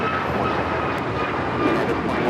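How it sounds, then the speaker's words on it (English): A United Airlines Boeing 737 MAX 9 jet takes off at Los Angeles airport, bound for Chicago, its engines a steady broadband roar that holds even and fairly loud with no quiet break. "This is United Airlines 2113 taking off to Chicago on the MAX 9"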